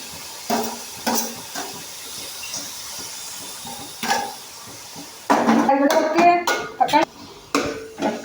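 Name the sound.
tomatoes added to onions and chicken in a hot pan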